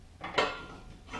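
A metal quick hitch piece for a Deere 54 snow blade slides into its support brackets, giving a couple of faint, quick metallic clinks and a light scrape at close range.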